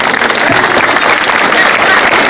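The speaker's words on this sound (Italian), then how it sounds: "E facciamo un applauso" A crowd at the 2011 San Calogero festival in Mussomeli breaks into dense, steady applause that fills the space loudly and evenly from start to finish.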